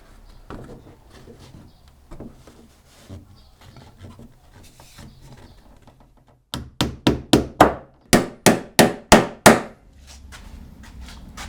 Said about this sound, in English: Now I just need to pretty much bend it around like that and then tack it in place